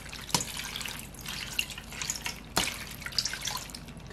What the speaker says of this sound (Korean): 물로 좀 헹궈주겠습니다.